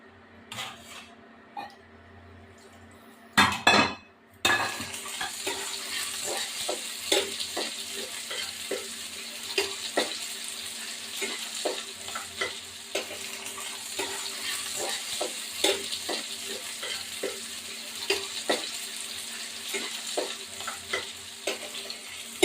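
Chicken biryani frying in a pan, with a steady sizzle and repeated scrapes and clacks of a spoon stirring through it, close and alone after a brief loud clatter near the start.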